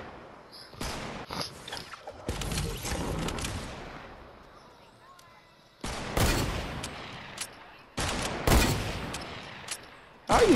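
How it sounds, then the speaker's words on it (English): Fortnite gunfire arrives in several loud bursts of rapid shots, with quieter gaps between volleys and a voice talking faintly underneath. "we're literally shooting at the same exact spot"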